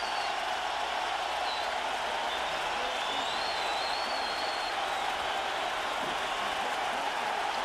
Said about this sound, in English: Burnett is going to get a huge hand from this stadium crowd